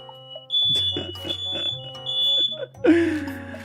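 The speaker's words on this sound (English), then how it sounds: "Oh, shut up, fire alarm." A kitchen smoke alarm sounds in loud repeated high electronic beeps while food cooks and sizzles nearby, with brief bursts of speech mixed in.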